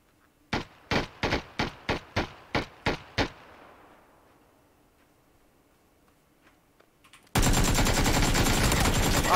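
Eight evenly spaced single gunshots from the battle royale game PUBG, loud and close with a fading tail, followed by quiet and then a sudden loud wash of game noise.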